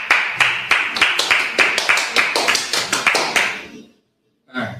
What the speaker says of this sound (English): I'll clap it up for you.